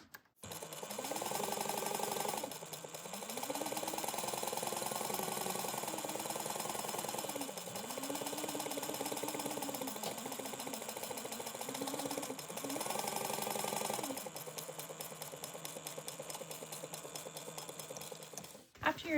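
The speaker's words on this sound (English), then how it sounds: "we're going to sew that at a 1/4 inch seam allowance." A sewing machine runs a quarter-inch seam with a continuous close motor whir whose pitch rises and falls as the speed changes, pausing briefly before slowing to a lower, rattling run near the end.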